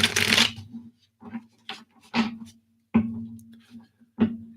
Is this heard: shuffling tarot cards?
yes